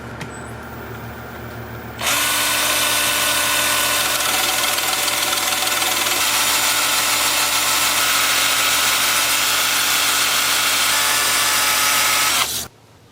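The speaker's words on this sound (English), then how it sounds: "Sanding the inside was way harder than sanding the outside." A steady loud whir of a spinning lathe with broadband sanding hiss as the inside of a wooden bowl is sanded runs for about ten seconds, then cuts off abruptly.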